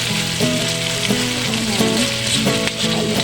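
Corned beef with broccoli frying in a pan gives a loud, close, continuous sizzle, broken by the scrape and clatter of a utensil stirring it every second or so.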